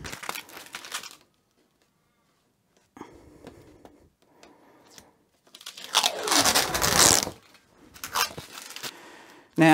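Double-sided tape backing holding sandpaper is pulled off a hand plane setup, giving crackly tearing and crinkling bursts up close, with a long loud rip near the middle and short ones around it, separated by near silence.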